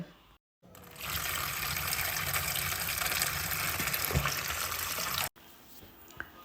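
Water drains from freshly rinsed tender mangoes held in a perforated vessel in a home kitchen, a steady rushing flow that runs for about four seconds and then stops abruptly.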